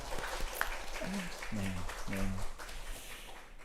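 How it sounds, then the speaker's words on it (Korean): A Korean church congregation at a Friday evening service claps to welcome a visiting family, moderate applause mixed with brief murmured voices and a few low tonal notes, fairly quiet and roomy. "우리 박수로 환영하도록 하겠습니다"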